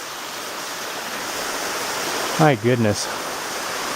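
Water flows continuously through a cave in a steady, loud rushing wash, with a person briefly speaking near the end over it.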